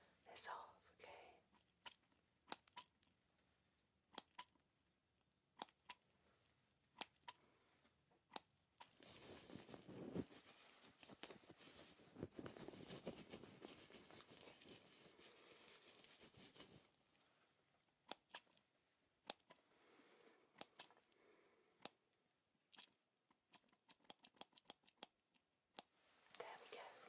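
Sharp, close scissor snips come in quick clusters during an ASMR ear-surgery roleplay set as a nurse's home visit, with soft whispering running between and under the cuts.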